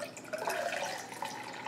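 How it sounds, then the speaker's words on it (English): Room-temperature water poured into a 13-ounce glass, heard as a faint, short splashing trickle with bubbly gurgles rising and falling, alone with no talk. "I'm gonna pour some. I'll get some water here."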